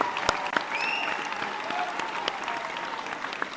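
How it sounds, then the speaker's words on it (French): Audience applause for fighter Oliver Taza at a One Two Jitsu gala in Magog, Quebec, a steady dense clapping crowd with a few sharper individual claps and faint whistles riding over it. "une bonne main d'applaudissement, s'il vous plaît, mon ami Oliver Taza"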